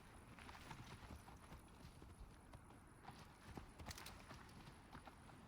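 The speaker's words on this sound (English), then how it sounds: "Mount up, Eivor. It's a long ride to Tamworth" Horse hooves clip-clop at a steady riding pace in the Assassin's Creed Valhalla video game, a continuous rhythmic trot heard fairly faint under ambient game sound, with no talk over it.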